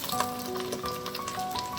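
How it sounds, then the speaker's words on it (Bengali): Onions and potatoes fry in a pan with a continuous close sizzle and crackle, joined by soft stirring scrapes. "পেঁয়াজ খানিকটা ভাজা হয়ে গেছে। এবার আমি এর মধ্যে আলুগুলো দিয়ে দেব।"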